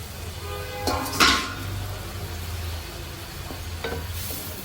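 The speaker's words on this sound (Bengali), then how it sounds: "এখন চিংড়ি মাছগুলো দিয়ে দিই" Large prawns tipped into a hot pan with spices and cumin powder: a brief clatter of utensil on metal, then steady close sizzling and frying.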